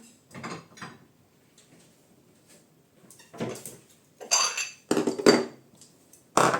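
Spoon and utensils scrape and clink against pots and a glass jar in several separate bursts as food is transferred, close by, with pauses between.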